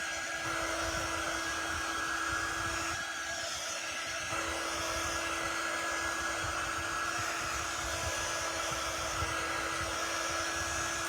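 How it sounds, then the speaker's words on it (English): A low-heat drying tool blows continuously over ink, giving a steady even whir and airy hiss with a constant tone, close and unbroken for the whole stretch. "This one is just a heat dry tool and it is not very hot, but it does dry"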